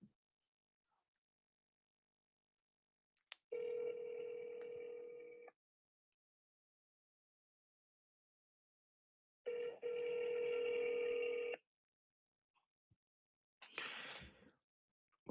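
An outgoing telephone call rings back twice through a handset, each long electronic ring tone lasting about two seconds with a long silent gap between, then a short burst of tone at the end; no talking.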